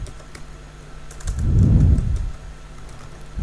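Computer keyboard typing while entering names into an Excel spreadsheet cell: a few soft keystrokes, then a louder dull thumping burst in the middle, close and clear with no talking.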